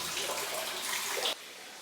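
Distant running water and air moving through the passages of a granite cave, heard as a steady hollow wash with faint echoing tones that drops abruptly quieter near the end, with no voices.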